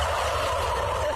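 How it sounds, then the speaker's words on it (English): A flock of turkeys gobbles together in a dense, continuous rattling chorus, loud and close, with no talk over it. "Every time that trumpet sounds, the turkeys sing in unison."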